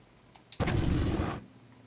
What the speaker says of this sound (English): The smart pistol can lock on to more than one target.